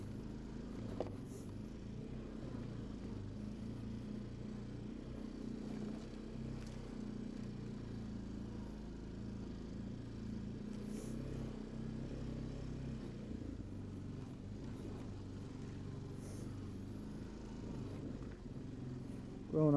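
Honda Foreman 500 ATV with a freshly rebuilt engine, ridden around a trail loop, a steady close engine drone holding fairly even throughout with no talk over it.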